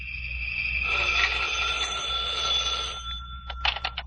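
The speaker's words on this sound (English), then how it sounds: "When I got home, the phone was ringing." A telephone rings with a sustained electronic trill, followed by a few short bursts of ringing.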